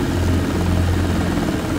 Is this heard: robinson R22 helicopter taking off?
yes